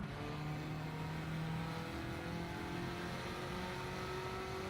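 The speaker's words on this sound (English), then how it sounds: "Got to keep concentrating on slowing the car down for the corner" A racing car in a video game drones steadily as it brakes into a corner, its engine tones holding close and loud with slight shifts in pitch throughout, and no voices over it.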